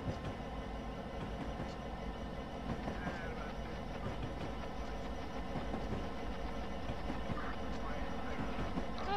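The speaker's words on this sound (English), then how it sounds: "Oh, they're BNSF locomotives." BNSF locomotives in the Train Simulator 2015 video game, a steady low diesel rumble with rail noise and faint clicks running throughout, heard under a man's speech at moderate level.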